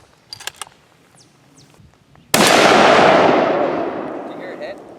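A single sharp, loud rifle shot from a .300 Winchester Magnum firing a 150 grain soft point at a railroad tie plate outdoors, breaking over faint background noise and trailing into a long rolling echo that slowly fades.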